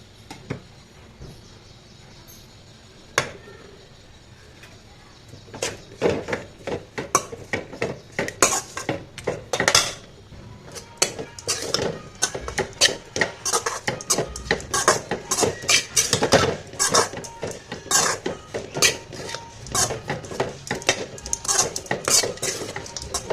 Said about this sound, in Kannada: ಈಗ ಅನ್ನ ಹಾಕಿ ಮಿಕ್ಸ್ ಮಾಡೋಣ.